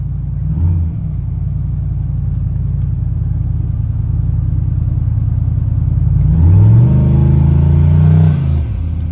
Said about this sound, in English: After that bit of a pull, I can definitely hear the wastegate open.